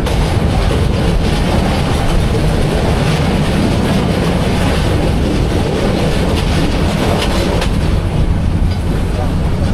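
Nasirabad Express local train on the Feni to Chattogram line pulling into Chinki Astana station at night, a loud continuous rumble and rattle of rolling wagons close by, steady throughout with faint clatter on top.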